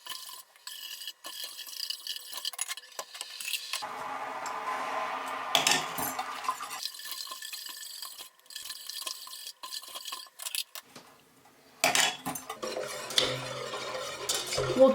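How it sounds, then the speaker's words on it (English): A spoon stirs and clinks against a glass container as sugar is dissolved into water, with bursts of swirling scrapes and taps separated by brief pauses, close and moderately quiet, no voices. "as you stir it, you should see it completely dissolve"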